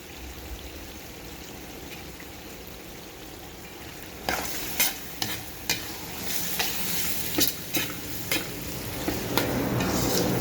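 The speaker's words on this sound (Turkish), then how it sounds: "Ben soğanı bayağıdan beri kavuruyorum. İçerisine kapya biber ve köy biberini de atayım. Bir de bunlar kavrulsun." Steady sizzling of onions and red and green peppers frying in a pan, with a series of sharp scraping clicks from stirring in the second half.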